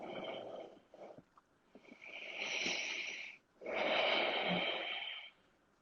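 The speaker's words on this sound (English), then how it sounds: "Just breathing through it, feeling our hips release." Heavy, slow breathing during a power yoga hip-opening pose, with long rasping exhales and snorting breaths, fairly close and standing alone with no talk.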